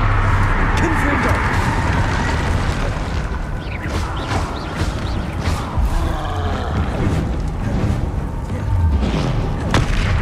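Repeated fiery Confringo blasting-curse explosions from Hogwarts Legacy rumble and boom almost continuously, loud and close, layered over dense game combat noise with no clear speech.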